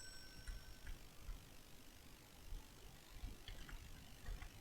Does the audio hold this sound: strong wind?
no